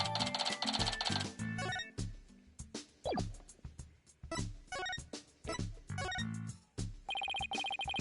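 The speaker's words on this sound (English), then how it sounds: "Who was that phone call from?" A telephone rings in repeated electronic bursts within the Ace Attorney Dual Destinies video game, loud at the start and again at the end, with game music and effects in between.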